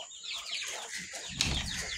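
Chickens clucking on a farm, soft close chatter of hens with a brief louder flutter or scuffle midway, faint and unhurried, with no voices.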